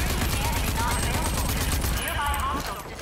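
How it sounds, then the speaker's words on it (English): Rapid gunfire from shooting in the video game Rage 2, a dense continuous burst of loud shots with a voice talking over it throughout. "I don't know where I'm shooting."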